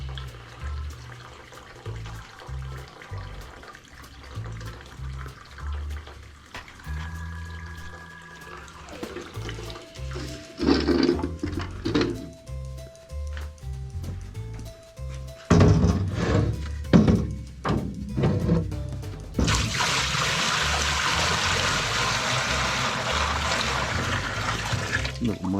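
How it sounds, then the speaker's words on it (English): Water gushes and splashes as a steam boiler drains into a bucket, starting with scattered knocks and trickles, then building into a loud, steady rushing pour over the last several seconds. "I'm going to drain this boiler down. Already started draining it."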